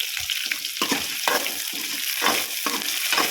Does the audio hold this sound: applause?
no